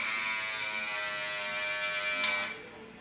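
Babyliss Pro FX hair clippers running low on charge, a steady close electric buzz that drops away abruptly near the end.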